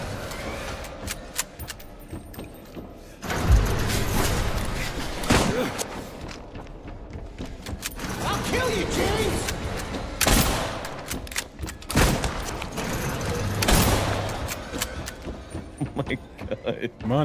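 Gunshots ring out in Silent Hill 2, several sharp loud blasts spaced apart, with the first around a few seconds in and a couple more later, over a steady dark game backdrop with voices talking.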